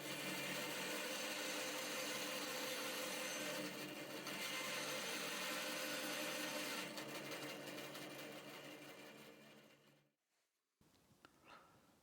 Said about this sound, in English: A simple curve has been drawn and the cutting is happening on the bandsaw.